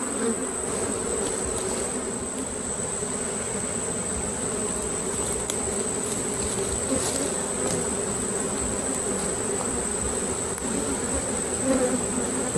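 Honey bees in an open Layens hive full of honey and brood, a steady, dense buzzing swarm drone close to the microphone that holds continuously throughout without pause.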